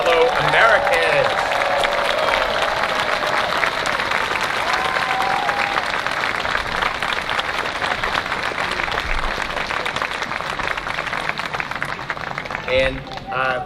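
Sustained applause from a large outdoor audience at a July 4 naturalization ceremony at Mount Vernon, cheering new citizens; steady dense clapping throughout, with a few voices and whistles mixed in.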